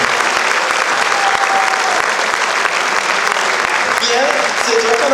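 Audience applause for a music-hall performer at the season's first show, a dense, steady wash of clapping that holds loud and close throughout, with faint voices mixed in near the end.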